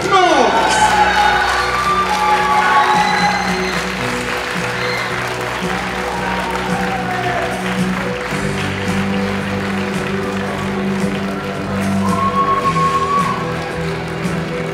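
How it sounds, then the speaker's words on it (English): At a British natural bodybuilding championship, an audience applauds and cheers as a trophy winner is announced, a loud continuous wash of clapping with whoops and shouts throughout, voices mixed in. "Big round of applause."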